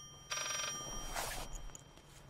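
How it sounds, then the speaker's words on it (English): A telephone ringing in the horror video game Layers of Fear, two bright electronic ring bursts with a gap between them, fairly faint and heard alone over a quiet hum. "the phone's still ringing."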